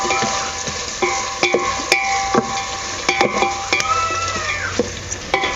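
Onions sautéing in a pan for chicken biryani give off a steady sizzle, punctuated by repeated sharp clinks and scrapes of a spoon stirring against the metal, close up with no talking.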